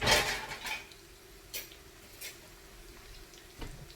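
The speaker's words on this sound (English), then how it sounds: "I'm going to get a little spoon because I want to be basting these also" A spoon scrapes and clinks against a pan while fish sliders cook for basting, with a few distinct metallic taps over a faint, low sizzle.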